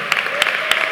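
Congregation at a Pentecostal crusade meeting clapping hands in praise, a continuous crowd of clapping with three sharp, evenly spaced louder claps, close and bright, with a faint voice mixed underneath.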